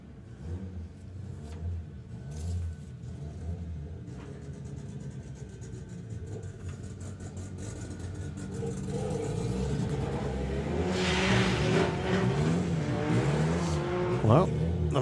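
A quick Polish front-wheel-drive diesel drag car launches at a drag strip, its engine rumbling then building into a rising roar with tire noise toward the end, heard from a distance over crowd chatter.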